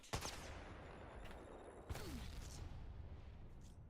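A grenade thrown at the ground explodes in Apex Legends, a sharp burst near the start followed by a second boom and a lingering rumbling blast wash, with no talk.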